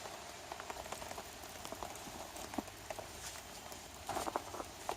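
Steady rain patters on leaves and ground in a forest, with scattered heavier drops landing close by over a soft, continuous outdoor hiss.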